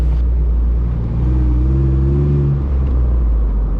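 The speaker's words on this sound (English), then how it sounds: "Let's hop in the Jeep and go for a test drive." A Jeep engine with bolt-on performance upgrades pulls forward on a neighborhood test drive. Its steady, loud low rumble lifts in pitch for a couple of seconds as it accelerates, then settles back. No voices are heard.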